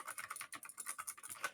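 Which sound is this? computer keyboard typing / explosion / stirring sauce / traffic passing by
computer keyboard typing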